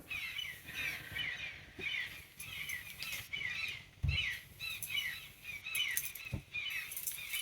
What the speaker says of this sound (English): Wow, the birds are really loud out today.